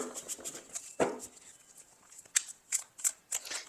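Quiet, close papery riffling and soft taps as a deck of tarot cards is shuffled, with irregular crisp snaps spaced through the clip.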